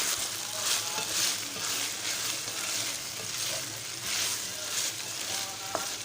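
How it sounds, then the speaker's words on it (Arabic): Garlic, onion and green chili sizzling in a hot pan as they are stirred, a continuous crackling fry with soft scraping movements and no talking. "حطينا توم ودي البصل وقرن فلفل أخضر وحراق، وهنقلب."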